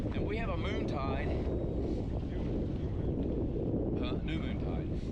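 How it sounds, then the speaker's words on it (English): Strong wind buffets the microphone and roars across choppy water from a fishing boat out on a moon tide in winter, steady and loud throughout, with brief voices under it. "I think the wind's supposed to be about 13."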